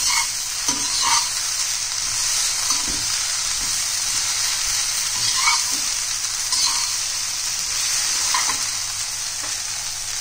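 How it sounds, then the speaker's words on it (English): Steady, loud sizzling of okra stir-frying on high flame in a hot pan, with occasional scraping and stirring clinks, no voices. "Keep stir frying on high flame for 2 minutes."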